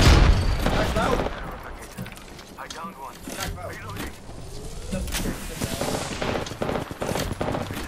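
Enemy squad gunfire in Apex Legends, rapid bursts of automatic shots and scattered single cracks from close to mid distance, interleaved with someone talking over the fight.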